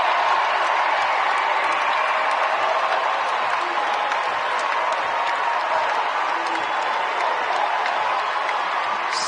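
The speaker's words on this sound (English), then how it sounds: "And the sellout crowd on their feet in Gamble" A sellout crowd at Gamble Coliseum applauds and cheers steadily during an NCAA Tournament second-round basketball game between UConn and Baylor, a dense, continuous roar of clapping and shouting that never lets up.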